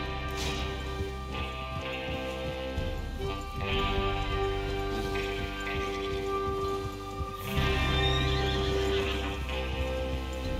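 Horses whinny and hooves clop as riders set out in Red Dead Redemption 2, with several loud neighs over steady hoofbeats and game ambience.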